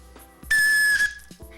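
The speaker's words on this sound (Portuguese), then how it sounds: "mas que apito que me arrumaram, viu?" A single loud, shrill referee's whistle blast lasting about half a second, ending the first half of a football match, standing out sharply against a quiet background.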